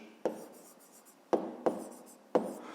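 Hand writing numbers on paper, four short scratchy pen strokes at irregular intervals, close and quiet with no talk.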